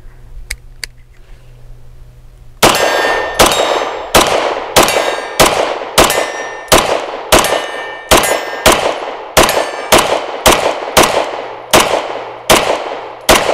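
A BUL Armory EDC pistol fires a full magazine of Browning ammunition, a steady run of about fifteen loud, sharp cracks at an even pace, each one ringing briefly after a few quiet, faint clicks at the start.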